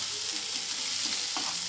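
Ginger and chili paste fries in oil spiced with cardamom, a steady dense sizzle with soft bubbling and stirring scrapes, heard alone without speech.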